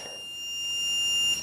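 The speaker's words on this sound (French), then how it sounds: "Tu vas entendre un long bip pour te dire que les 10 minutes sont terminées." A long electronic beep marks the end of a 10-minute muscle-strengthening workout. It is a steady high tone that holds for over a second, clear against a quiet background.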